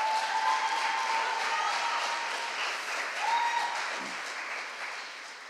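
Audience at a French public-speaking contest final applauds a speaker again, a steady crowd of clapping hands with faint tones and murmurs underneath.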